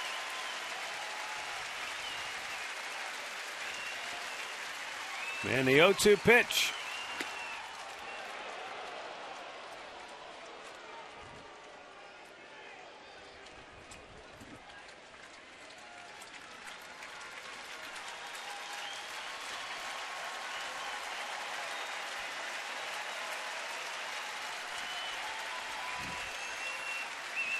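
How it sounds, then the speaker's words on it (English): A sparse crowd at a Tigers versus Indians baseball game in Cleveland claps and cheers steadily, with a sharp swell early and a long sustained roar of applause, while a commentator speaks briefly over it. "Smallest crowd of the series, but they're making some noise now."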